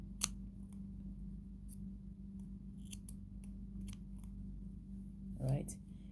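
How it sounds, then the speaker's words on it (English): Scissors snip the thread ends of a multi-strand beaded bracelet, giving a few quiet, sharp clicks over a low steady hum, and a voice speaks briefly near the end. "then you cut the ends of the thread"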